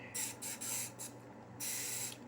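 A trigger spray bottle filled with dish liquid sprays into a bottle of water in three close, hissing bursts, each about half a second long, with brief pauses between them.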